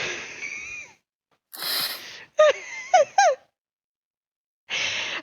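A voice imitates ragged, labored breathing with harsh gasping inhales and wheezy exhales, then short moaning whimpers, coming in separate close bursts with pauses between them.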